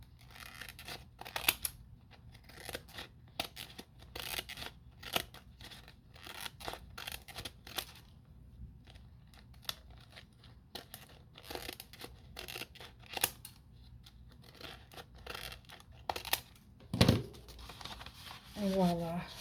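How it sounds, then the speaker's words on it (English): Scissors trim the edges of leftover paper scraps in a quick, close run of crisp snips and small paper rustles, with a person talking at times. "Just trim the edges a little bit more."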